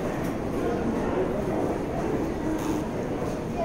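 A Manhattan-bound New York subway 7 local train rolling along, a steady loud rumble of wheels and car noise throughout, with no clear breaks or station stops.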